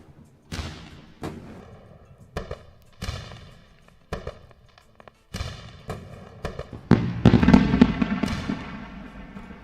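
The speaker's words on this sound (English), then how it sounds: "Let's go with a round of fireworks." Fireworks sound effect played during a live day trading stream: a run of sharp separate bangs, each with a short crackling tail, coming roughly every second and building into a denser, louder crackling burst near the end.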